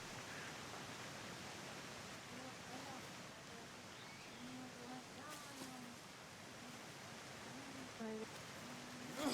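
Steady rushing wash of a waterfall in the video game Spirits of Amazonia, soft and constant, with faint tonal game chirps over it.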